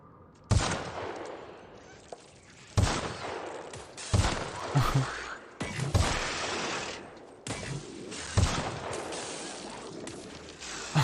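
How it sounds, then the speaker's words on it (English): Gunfire in The Outer Worlds video game, aimed at bushes: several sharp bursts of shots at irregular intervals, loud and close, with a mechanical rattle between volleys and no talk. "I'm just shooting at bushes."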